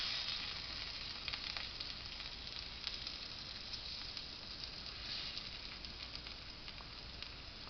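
Radishes sizzle steadily in a pan over low heat, giving a continuous close hiss with small crackles and pops scattered through it and no voices.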